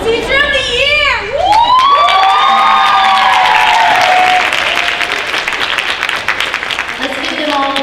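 Audience applause fills a high school senior honors night as teachers and students come forward, with loud sustained clapping, some whistles and cheers, and voices over the crowd.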